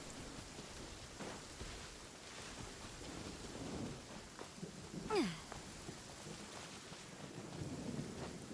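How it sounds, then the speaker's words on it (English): Thunderstorm in the game Genshin Impact, with a steady wash of rain and low rumbling thunder throughout, plus a bright zapping lightning crack near the middle. "Lightning storms."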